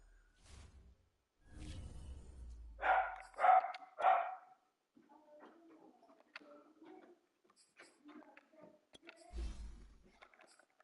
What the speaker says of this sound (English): I wonder if you can hear my dog there. He's probably barking at a squirrel or something.